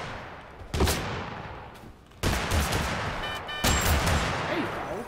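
Loud gunfire in Totally Accurate Battlegrounds comes in three sharp bursts, each opening with a crack and trailing into dense rattling shots and echo, close and dominant.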